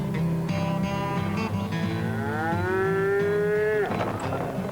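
Cattle on a green pasture by running water moo loudly and close, one long drawn-out low call rising and falling over several seconds among other bovine lows, with no talking.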